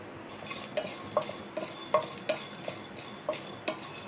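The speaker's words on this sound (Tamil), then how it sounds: "கிராம்பை லேசா வறுத்துக்கிறேன்" Whole cloves dry-roast in a pan for Bhai-style garam masala, stirred steadily so a spoon scrapes and clinks against the metal in a regular rhythm of soft strokes, close and fairly quiet, with no voices.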